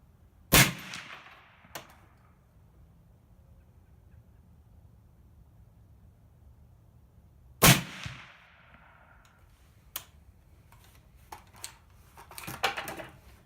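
Suppressed 7.62 rifle fired through a Rugged Surge suppressor in its short configuration, two loud sharp close shots several seconds apart, each with a brief decaying tail, followed by fainter metallic handling clicks.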